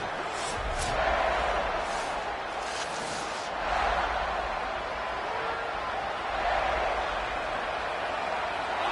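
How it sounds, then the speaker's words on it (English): Crowd noise fills a football stadium as the Tar Heels offense takes the field, a steady broad roar that swells in waves, with a commentator talking over it. "This crowd ready to make its presence known."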